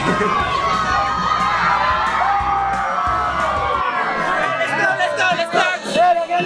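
A festive crowd gathers at Merdeka Square in Kuala Lumpur for the 2023 Malaysia Day celebration, with steady loud cheering, whoops and children shouting over a dense babble of voices that swells and dips throughout.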